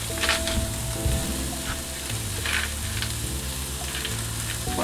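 Courgettes sizzling on the griddle of a Weber grill, a steady close crackle and hiss over a low hum, with scattered sharper spits throughout.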